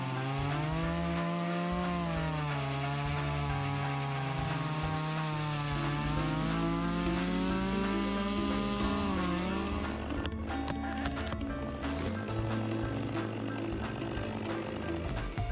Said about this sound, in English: This is the Style MS-881. Loggers call it the world's most powerful logging saw